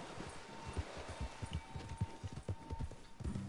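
Horse hoofbeats in Red Dead Redemption 2 online play come as a quick, steady clip-clop rhythm, close and fairly soft, over faint ambient rustle.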